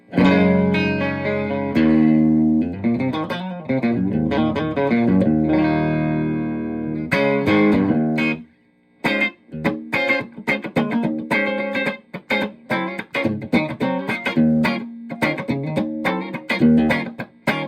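A 1965 Stratocaster electric guitar played through effects pedals into a Milkman Sound The Amp 100 amplifier: loud, effected chords and single notes with a gap partway, then choppy, rhythmic strummed stabs.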